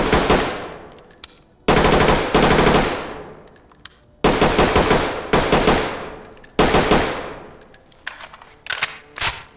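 Mark 18 rifle firing in the game Ready or Not, unsuppressed without an optic: three loud sustained bursts of rapid automatic fire, each ringing out and decaying, followed by a few sharper single shots near the end.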